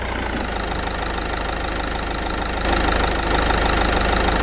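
Car engine idling in the Roblox game Traffic Lights, a steady rough mid-pitched drone with a slight rattle that holds constant and swells a little louder partway through, with no talk.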